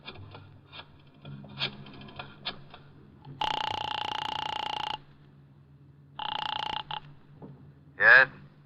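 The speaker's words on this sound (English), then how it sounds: "I dialed the Kelsey residence." A telephone rings in a radio drama after a number is dialed, with two long bursts of ringing tone separated by a pause, set over faint background hum and small clicks.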